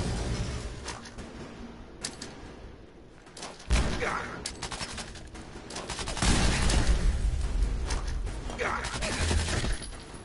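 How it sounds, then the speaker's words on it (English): Double-barrel shotgun and other gunfire in the video game Fallout 4 during a raider fight at a plant nursery, several loud blasts and bursts with mechanical clicks between them, a low murmur of speech mixed in. "And then the double barrel shotgun."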